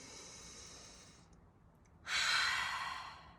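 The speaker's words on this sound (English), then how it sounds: "Maybe you could make this your biggest breath of the day." A deep breath drawn in and then let out in a long, audible exhale, close and alone, followed by a brief pause and a stronger airy release.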